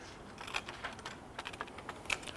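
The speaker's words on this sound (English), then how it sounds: "Just using a pair of scissors" Scissors trim the edge off a heat transfer sheet, giving quiet, close snips and crisp papery cuts in an irregular run of about eight soft clicks with no talking.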